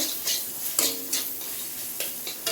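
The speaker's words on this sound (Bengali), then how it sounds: "দিয়ে একটু নাড়াচাড়া করে নেব" Pasta with Maggi masala is stirred in a pan, giving a few soft scraping strokes of a spoon against the metal over a faint, steady background hiss.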